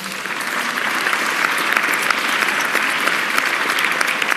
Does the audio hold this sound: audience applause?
yes